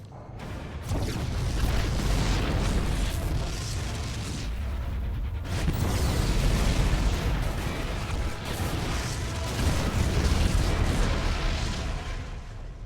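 A continuous barrage of booming explosions and rumbling blasts in StarCraft 2, dense and loud, easing briefly before surging again.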